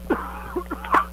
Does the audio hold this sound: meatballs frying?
no